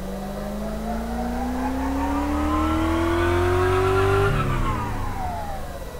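A single car engine in Car Mechanic Simulator 2014 revs on a dyno, pitch climbing smoothly and steadily for about four seconds before dropping off as the throttle is released, loud and close with no talking.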